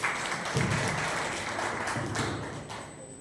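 Moderate applause from guests at a Rotary Club installation ceremony in Nagercoil, soft thuddy claps spreading through the hall and gradually thinning out.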